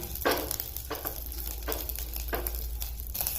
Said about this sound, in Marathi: यात सुद्धा टाकायचं थोडंसं तेल मिरच्या सुद्धा चांगल्या खमंग भाजून घ्यायच्या